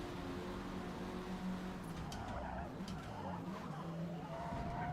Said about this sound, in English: I've got the ABS off, so you'll be hearing me light up the tires a lot